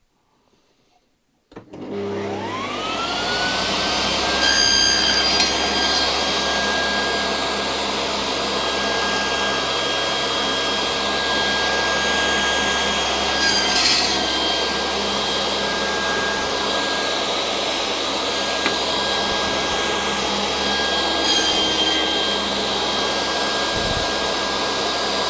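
A table saw with a sliding table spins up after a short silence and runs loudly and continuously cutting a wood slot for a mortise and tenon joint, its steady high whine briefly straining at a few points.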